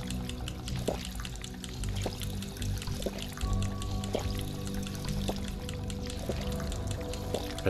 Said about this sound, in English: Let's get a drink of water.